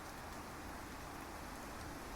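Rain falling beside a river on a grey September day, a faint, even hiss of drops spread evenly with no break and no voices.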